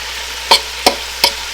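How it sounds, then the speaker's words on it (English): Ground meat browns in a pan for lasagna over medium-high to high heat, and three quick, evenly spaced stirring scrapes cut through a quiet background sizzle. "every 5 minutes, I'm just going to give a little bit of a stir just to keep that golden browning going."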